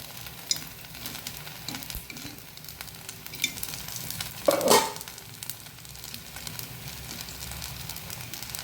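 Colourful vegetables sizzle steadily in a pan for a healthy breakfast while being stirred, with soft scraping and one brief, louder clatter of the spatula partway through.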